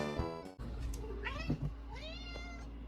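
A house cat meows repeatedly, several rising and falling whining calls close by, over a steady low background hum with no talking.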